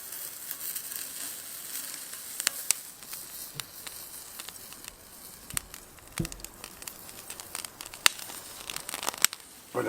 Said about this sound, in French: on va venir poser dans un premier temps nos oignons juste au-dessus de la braise